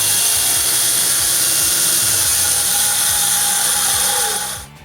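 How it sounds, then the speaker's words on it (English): A circular saw blade cuts wooden game pieces with a loud, steady high whine and a rapid rhythmic chatter underneath, running continuously before cutting off abruptly at the end. "I cut the pieces with my circular saw blade because it's the thinnest blade I own."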